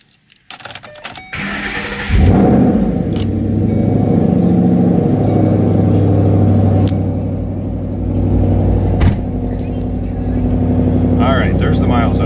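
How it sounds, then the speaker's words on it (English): A 2012 Ford Mustang Roush Stage 3 with a Roush exhaust starting up: a short cranking burst, then the engine catches into a loud, deep, steady rumbling idle heard up close from inside the car. "Go ahead and start it up so you can hear it. It has a Roush exhaust on it."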